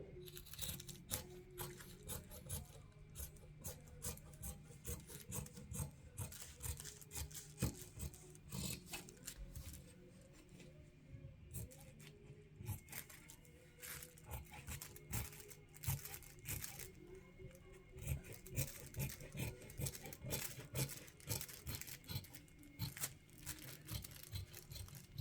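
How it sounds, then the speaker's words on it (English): Fabric being cut with scissors along a pattern line, a steady run of close, soft rasping snips and rubbing with crinkling handling noise throughout, no talking. "I'm going to take my scissors and I'm going to cut"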